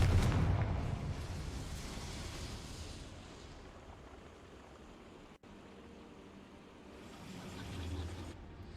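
A Confringo fire spell blasts in Hogwarts Legacy, opening as a loud burst that decays into a rumbling, crackling roar, fading to a low wash before a second swell rises near the end.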